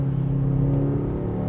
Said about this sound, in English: There's something about that AMG Performance exhaust.